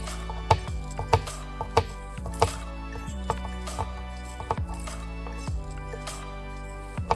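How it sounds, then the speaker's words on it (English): Knife slicing three garlic cloves into fairly thick slices on a cutting board while making beef stew, with a run of distinct chopping taps at an irregular, steady pace, close up and moderately loud. "We're also going to slice the garlic, our 3 cloves of garlic."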